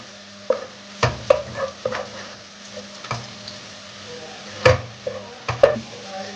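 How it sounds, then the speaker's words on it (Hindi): Sliced onions browning in a pan with five or six cashews. A spatula scrapes and knocks against the pan in irregular strokes every second or so, over a soft, continuous frying hiss. "जब प्याज हल्का सा ब्राउन हो तो इसमें 5-6 काजू वो शामिल कर दें और काजू के साथ इसको भून लें"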